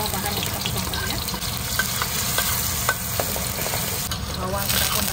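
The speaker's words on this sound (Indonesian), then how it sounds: "jadi kita goreng karena semua bahan kita potong tadi ya" Chopped shallots, chilies and other ingredients sizzle and crackle steadily in hot oil in a pan, with occasional stirring scrapes, loud and continuous.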